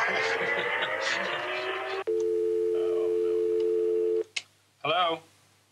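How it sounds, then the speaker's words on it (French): Telephone tones from the Space Mountain: De la Terre à la Lune ride audio, with a long steady ringing tone followed by short beeps, coming after a stretch of busy talk and music. "À Los Angeles, Tim Delaney reçoit un appel urgent de Paris."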